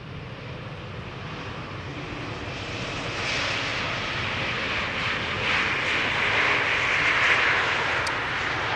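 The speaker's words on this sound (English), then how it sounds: "Air Baltic A220 is approaching, flying overhead, outbound." An Air Baltic Airbus A220 passes overhead outbound at Amsterdam Schiphol, its engine roar swelling steadily and growing louder toward the end, with no voices.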